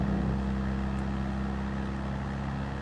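A slow car's engine idling and droning in Gran Turismo 7 on the Nürburgring, a steady low hum with a constant pitch that slightly fades toward the end.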